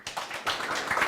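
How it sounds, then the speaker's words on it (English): Applause from an audience for the guest panelists at the close of an urban transport energy-efficiency discussion, a short burst of scattered claps that starts after a brief quiet moment and holds steady. "A round of applause if you could for our guests"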